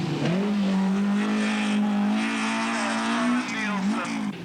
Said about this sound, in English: Escort moves over for Peter Geitel's Datsun as the cars move into the final night of the event through